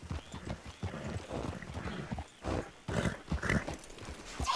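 Horse hooves clip-clop in Red Dead Redemption 2 as the animal moves along at a steady gait, with a whinny and other game sounds mixed in at moderate volume.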